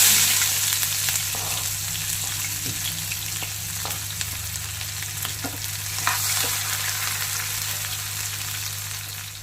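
Onions and green chillies frying in a pan after cumin seeds for chenga pappu curry: a steady sizzle near the microphone with occasional spoon scrapes over a low constant hum.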